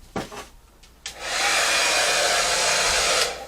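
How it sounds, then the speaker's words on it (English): A hair dryer blows steadily for about two seconds at close range, loud and unbroken, used to push black paint into freshly applied colors; brief handling knocks and a short start come just before it. "Let me grab my blow dryer."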